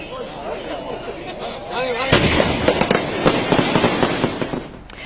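Fireworks display exploding at the Puttingal Devi temple festival in Kerala, a dense rapid barrage of loud crackling bursts and bangs that intensifies midway, with crowd noise underneath.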